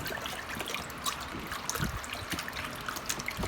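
Rinse water trickling and dribbling from freshly cleaned, salted catfish as they strain, a continuous close splashy patter with small irregular drips, no voices.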